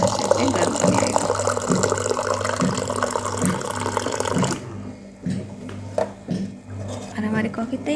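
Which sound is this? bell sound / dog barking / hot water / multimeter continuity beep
hot water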